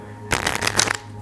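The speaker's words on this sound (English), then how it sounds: "what you can do is a few false cuts, a few false shuffles" A deck of playing cards is riffled in a false shuffle, one quick crisp burst of flicking cards lasting under a second, close and clear.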